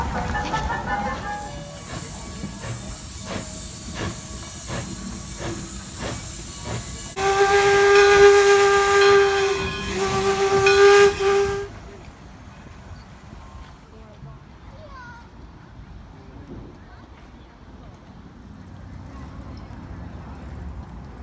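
A steam train's whistle blows loud and steady for several seconds at a railroad crossing in Greenfield Village, Dearborn, Michigan, over hissing steam and rumble, then cuts off, leaving quieter background noise with faint voices.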